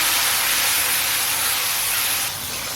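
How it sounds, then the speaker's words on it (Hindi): Tomatoes and green chilies tossed into a hot pan with browned garlic and ginger, giving a loud, steady broadband sizzle that hisses throughout and eases slightly near the end. "अब हम इसमें टमाटर और सब्ज़ मिर्चें ऐड करेंगे, अच्छी तरह से मिक्स करेंगे।"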